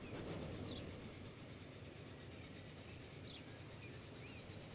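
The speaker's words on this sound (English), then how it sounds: "Oh, look, it's a train." A train rolls past in the Transport Fever 2 simulation game, giving a steady, moderately loud rumble of wheels on rails with faint higher squeaks, continuous throughout with no talking.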